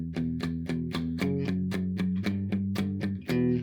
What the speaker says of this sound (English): Palm muting sounds like this.